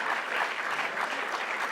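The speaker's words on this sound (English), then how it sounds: "Let's have a big round of applause for all the excellence in the building right now." A short burst of audience applause at a retirement party, a steady, moderately quiet patter of many clapping hands with no voices standing out.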